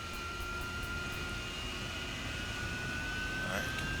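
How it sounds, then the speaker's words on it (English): An AV-8B Harrier jet engine starting up in the DCS flight simulator gives a steady, even turbine drone with a thin high whine over low rumble, constant and moderately quiet throughout. "There's the engine starting up."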